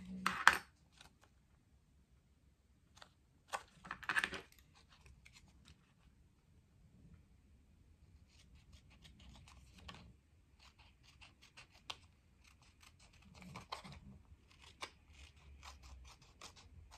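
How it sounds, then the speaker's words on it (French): Scissors snip off excess paper in a few short, crisp cuts near the start and middle, followed by faint rustling and light handling sounds in a quiet room. "Je vais venir couper le surplus."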